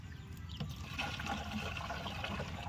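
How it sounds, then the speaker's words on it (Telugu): Water pours steadily onto the ground of a country-chicken poultry farm, a continuous close splashing trickle with no pauses and no talking. "ఇప్పుడైతే మనం వాటర్ పోస్తున్నాం."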